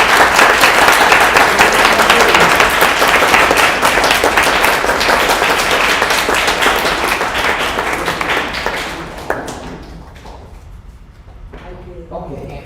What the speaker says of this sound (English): I think we can clap for the appreciation until here.